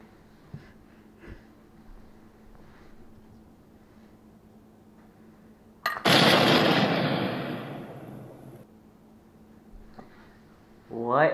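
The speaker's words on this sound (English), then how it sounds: "it blew up in the microwave" Superheated water in a microwave bursts violently when a coin is dropped in, a sudden loud whooshing blast lasting a couple of seconds and then fading. Quiet breathing and small noises come before and after.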